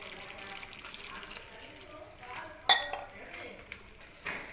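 A metal lid clinks onto a cooking pot with a sharp single clank, followed by softer kitchen clatter and a voice nearby.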